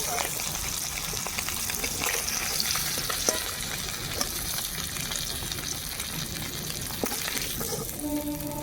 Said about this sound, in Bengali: এইভাবে সব মাছগুলো আমি ভেজে নেব